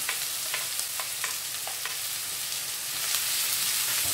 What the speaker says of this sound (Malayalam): അതിനകത്തോട്ട് ചെറുതായിട്ട് അരിഞ്ഞ സവാളയും പച്ചമുളകും കൂടെ വഴറ്റിയെടുക്കാം